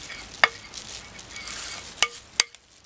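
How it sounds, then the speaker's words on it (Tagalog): Ube mixture being stirred in a cooking pan: a soft, continuous scraping swish broken by a few sharp utensil clinks against the pan, close and fairly quiet. "Haluin natin mabuti."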